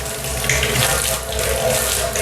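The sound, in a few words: hot water running from a tap fed by an instant geyser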